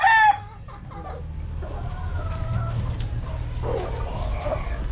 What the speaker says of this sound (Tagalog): Napakagandang manok nito.